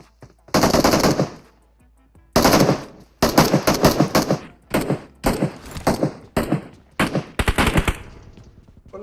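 Bursts of automatic gunfire from PUBG Mobile, several loud rapid volleys of varying length with short gaps between them, sounding close.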